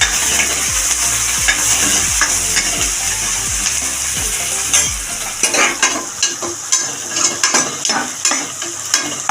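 Masala for fish curry is sautéed in a pan. A spoon scrapes in a regular, rhythmic stirring beat over a steady sizzle, then the stirring turns into irregular clinks and scrapes as the frying continues up close.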